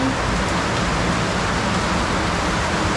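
Steady monsoon rain falls on indoor plants and cactus pots, a dense, even hiss of water at constant loudness with no breaks.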